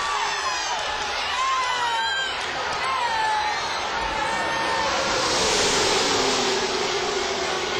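Huge grandstand crowd of 170,000 at a Talladega NASCAR race roars and cheers continuously, a broad wash of noise with the drone of race cars beneath it and an announcer talking over it.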